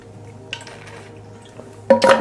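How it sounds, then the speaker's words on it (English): Someone sips water at close range: quiet handling clinks and a brief gulp, then a louder burst of swallowing and glass sounds at the end. "I'm just going to take a sip of water here"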